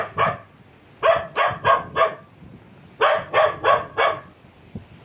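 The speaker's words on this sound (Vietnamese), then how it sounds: "nó phóng lên trên cái phần mộ mà nó sủa luôn á," A dog stands on a grave in the Bình Hưng Hòa cemetery at night, barking in quick bursts: one bark, a run of four, then another run of four, close and clear.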